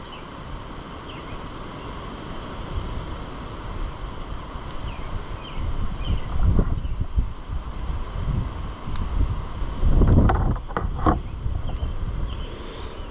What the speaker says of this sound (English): I like how it decides to be windy for no reason every single